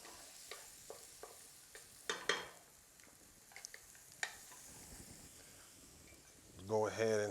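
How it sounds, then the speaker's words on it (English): Garlic stirred in a hot pan, with soft sizzling under scattered scraping clicks of the utensil, and a voice briefly at the end. "So you got to keep stirring that garlic."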